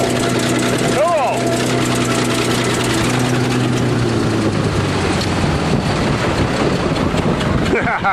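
A bulldozer engine runs steadily while the machine crushes a Buick Regal and an Olds, a loud continuous low rumble close by, with a brief whine near the start.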